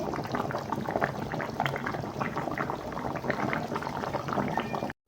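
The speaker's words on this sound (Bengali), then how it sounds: "মাছের এই কারিটা রেডি হচ্ছে" Fish curry simmering in a pot, a steady close bubbling and gurgling that carries on evenly before cutting off abruptly at the end.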